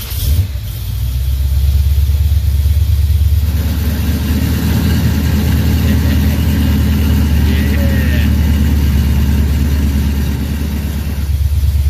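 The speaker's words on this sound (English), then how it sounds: "We got the QuickTime Performance exhaust cutouts welded up and wired up," A hot rod engine with QuickTime Performance exhaust cutouts idles and then rumbles heavily, turning deeper and louder partway through, close up and steady for about twelve seconds.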